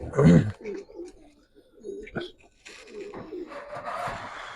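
Silver Giribaz pigeons coo in low, soft bursts, starting with a loud close coo and then quieter calls, with a person talking in the background.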